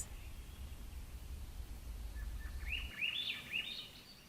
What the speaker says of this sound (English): I can hear the two robins crying from an alder across the creek